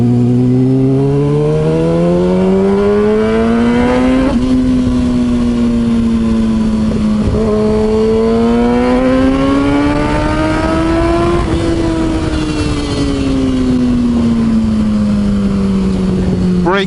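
Kawasaki ZX6R motorcycle engine on a test ride, winding up through the gears in long rising pulls with brief drops between shifts, loud and close with wind noise; the popping of the exhaust does not stand out clearly.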